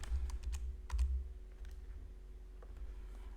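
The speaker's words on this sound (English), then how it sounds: "Let's try typing in nurse shirt here" Fingers type on a computer keyboard in short clusters of light clicks and taps, a quick burst at the start and scattered keystrokes after, close but soft over a low background rumble.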